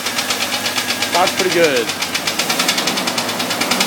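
A Jeep Cherokee 4.0L engine with a broken piston skirt knocks in a steady, rapid, even rhythm at idle, close and clear, while someone briefly speaks over it.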